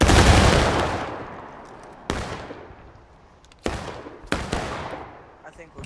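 Several loud gunshots fired at an animal, a big opening blast followed by three more sharp reports spaced a second or two apart, each with a long echoing decay outdoors.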